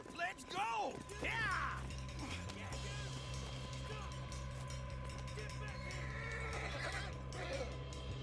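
A horse whinnies loudly at the start of a video game scene set in a Western outlaw camp, then hooves pound in a steady gallop under constant rumbling game sound, with voices speaking over it.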